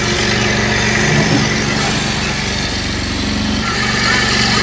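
Bajaj Pulsar 125 BS6 motorcycle engine running steadily at a held speed during air-screw adjustment, a close, constant buzzing idle-like note with slight fluctuations.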